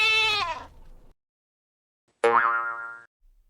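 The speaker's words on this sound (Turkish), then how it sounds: "keçi" Two separate bleats from a goat, each a wavering, harmonic-rich call. The first trails off and the second is shorter and higher, with a pause of about a second between them. Both are clear and close, with nothing else under them.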